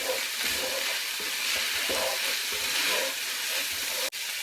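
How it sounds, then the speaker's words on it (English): Egg roll mixture being stirred in a hot pan, a steady sizzle with soft scraping strokes of the spoon repeating every half second or so, close and fairly quiet, with one brief dropout near the end. "I'm just going to stir this around."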